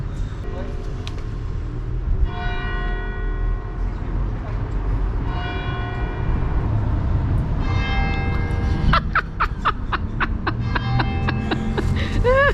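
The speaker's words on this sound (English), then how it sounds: "Here we are in Soissons, to the sound of the bells," Church bells ring out over the town of Soissons, France, their harmonic tones sounding in repeated bursts against steady street and traffic noise, with a faster run of bright strikes near the end.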